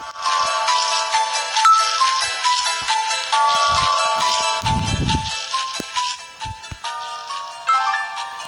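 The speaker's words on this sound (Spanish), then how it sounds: "Deja de vibrar, puto móvil satánico" A mobile phone ringtone plays in the video game Alice Spiritual Judge: a bright, tinkling melody that repeats for the whole stretch, loud and close, with brief low thumps in places.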